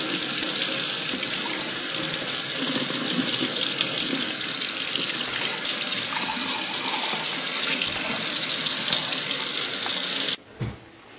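Water runs steadily and loudly from a tap while etched glass is washed beneath it, a continuous splashing rush that cuts off abruptly near the end, leaving a few faint drips and handling sounds.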